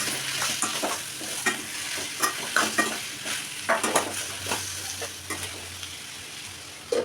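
Cut potatoes with turmeric and salt sizzle steadily in a pan while a utensil scrapes and stirs them in irregular bursts, close and moderately loud with no talking.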